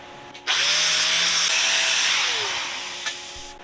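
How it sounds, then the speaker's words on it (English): An angle grinder fitted with a flap disc spins up and grinds zinc coating off a steel well auger, a loud, steady, hissing high whine that starts abruptly, holds for about three seconds, then winds down. "I'm just going to hit it with flat disc after I plug in my grinder."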